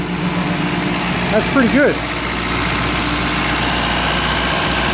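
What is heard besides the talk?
1952 MG car engine running after 34 years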